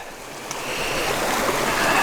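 A forest stream flows close by, a continuous rushing, bubbling wash of water that grows slightly louder across the two seconds, with no voices.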